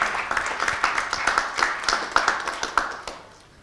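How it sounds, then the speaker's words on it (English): At a cybersecurity conference, a modest audience gives a speaker a round of applause: distinct, fairly sparse claps with a brisk rhythm, moderately close, tapering off after a few seconds. "Another round of applause, please, for our speaker."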